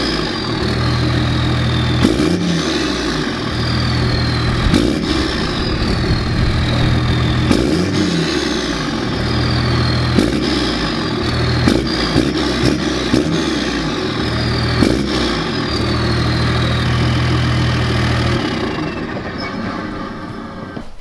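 A straight-piped 12-valve Cummins diesel truck with a 5-inch exhaust and a massive tip is revved several times, deep rumbling idle swelling into loud rising roars that fall back between repeated throttle blips.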